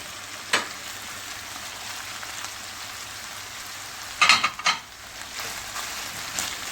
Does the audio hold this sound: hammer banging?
no